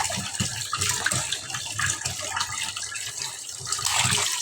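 Freshly bought fish are rinsed under a running tap, a steady gush of water with splashing and sloshing throughout, close by.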